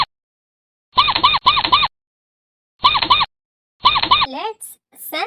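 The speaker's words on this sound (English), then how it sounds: "This is a rat. The rat sound is." A rat squeaks in a series of short, sharp, chirping bursts: four quick clusters spaced unevenly, then a few higher, falling chirps trailing off at the end, loud and close with silence between.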